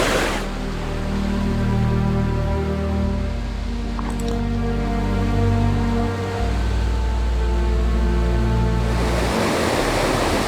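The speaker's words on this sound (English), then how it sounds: "the waterfalls, the cascades back there" Woodland waterfalls and cascades in autumn produce a steady, loud, broadband rush of falling water that stays constant throughout.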